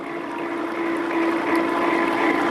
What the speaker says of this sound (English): I can slow the water flow down